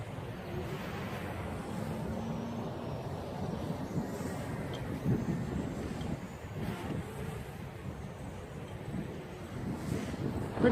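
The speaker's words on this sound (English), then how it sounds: "Pretty windy out here." Wind gusting outdoors at a drone flying field, a steady broadband rush buffeting the microphone, continuous and moderately loud with no clear voices.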